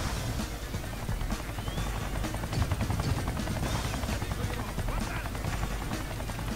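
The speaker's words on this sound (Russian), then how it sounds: "Вертолет." A helicopter in a video game makes a continuous, loud rotor drone that fills the mix, with voices talking over it.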